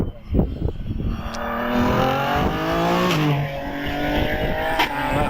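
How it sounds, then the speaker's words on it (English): An OMS 28 hillclimb race car with a 3-litre V6 Jaguar engine accelerates hard through gear changes at a hillclimb championship, its rising, shifting engine note loud and sustained before fading slightly into the distance. "This runs the 3 litre V6 Jaguar engine."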